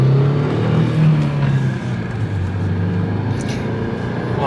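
A Volkswagen Passat, running with a temporarily patched hole in its oil pan, drives along. A loud, steady low engine and road drone is heard from inside the car, with no talking.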